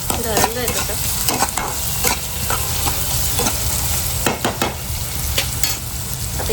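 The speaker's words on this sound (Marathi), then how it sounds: "कांद्याला थोडं होऊ देऊ आपण" Onions fry steadily in a hot pan, a loud continuous sizzle broken by repeated scraping and stirring strokes of a utensil, close up with no talk.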